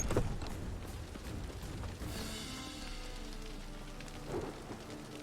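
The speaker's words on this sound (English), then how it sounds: "A storm, damn it." A thunderstorm with steady rain in The Witcher 3: a constant hiss of rainfall, a deep rolling rumble of thunder building midway, and a brief low crack near the end, with no talking.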